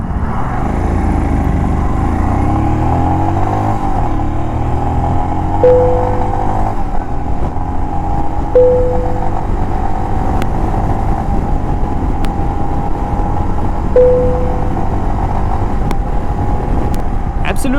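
A BS6 Royal Enfield Himalayan motorcycle accelerates hard through several gears, its engine note rising repeatedly from close by, loud and continuous with no talk.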